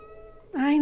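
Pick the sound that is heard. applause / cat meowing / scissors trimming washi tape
cat meowing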